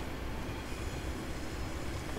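Trackbed rumble from Train Simulator 2019 on a high-speed winter route: a continuous, even rolling rumble with a faint rail hiss, steady throughout and heard alone without talking.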